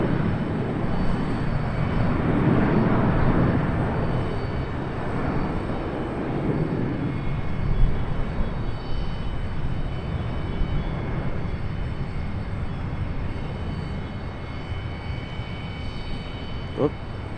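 A Boeing 737 departing Charlotte Douglas International Airport, its engines a steady broad roar that holds loud throughout, with voices talking faintly underneath.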